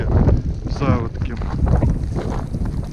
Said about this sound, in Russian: Ветрище вообще страшное